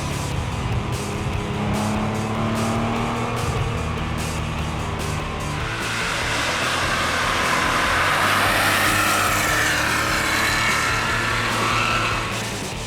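A 1967 Porsche 911 S runs up a mountain road toward Mount Wilson Observatory, its engine note loud and sustained, climbing and pulling hard through the gears with continuous road roar and no talk.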